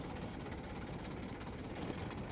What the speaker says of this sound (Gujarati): અત્યારે આપણે ધીરે ધીરે ટ્રેક્ટર ઉતારીને જઈએ